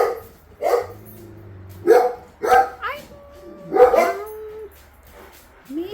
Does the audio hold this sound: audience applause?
no